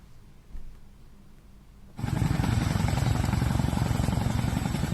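A rescue helicopter flies over flash-flood-hit Uttarkashi. The rotor's deep chop bursts in loud and near partway through, replacing a quieter background and holding steady to the end.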